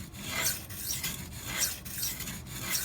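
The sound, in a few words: knife of Maxamet steel ground on Venev diamond sharpening stone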